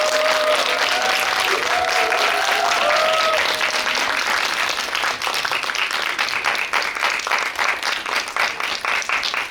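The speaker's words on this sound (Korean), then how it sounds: "입장하실 때 여러분 뜨거운 박수로 환영해 주시면 감사하겠습니다" A cinema audience in a CGV theater claps loudly to welcome a film director and two actors on stage. Dense applause fills the room with a few voices at the start, then thins into scattered, sharper claps.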